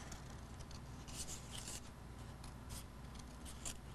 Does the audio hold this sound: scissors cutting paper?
yes